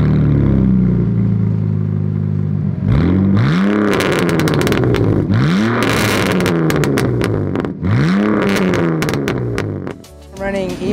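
A modified BMW E46 engine revs hard several times in sharp, rising bursts through a full Dinan exhaust with X-pipe, a throaty roar, close and loud, with crackles between pulls.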